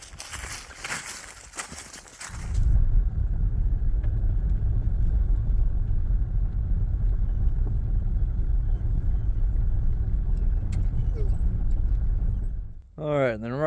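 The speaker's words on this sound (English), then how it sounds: "let's load up in the car, drive around, check out Bald Rock Falls" Car driving along a forest road near Laurel County waterfalls, a steady low rumble of engine and tyre noise inside the cabin after a brief burst of louder sound at the start, with a short noise at the end.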